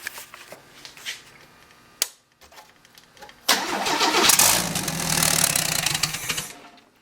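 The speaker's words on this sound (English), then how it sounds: "Hit the starter button, buddy." A rebuilt, turbocharged 250 engine on a budget build cranks with a few clicks and stutters, then fires and catches into a loud, rough, rattling run close by before cutting off near the end.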